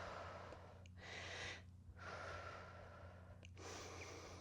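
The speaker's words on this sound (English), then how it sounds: "3 deep breaths" Soft, close breaths during a mobility workout: a few slow, deep inhales and exhales, each lasting about a second, separated by short pauses. The breathing is faint and there is no talk.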